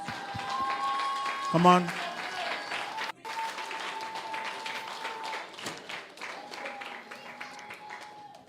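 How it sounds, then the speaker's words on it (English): A church congregation applauds its mothers in a sustained round of clapping, with a voice speaking briefly near the start and a lingering tone under the applause. "how about we give all of our mothers a round of applause?"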